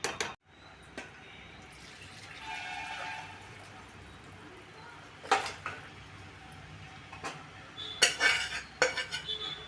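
Goat trotter curry is moved from one pot into another with a metal utensil: sparse clanks and scrapes of spoon against pot, some wet plopping, and a cluster of louder clattering near the end, fairly close and quiet overall.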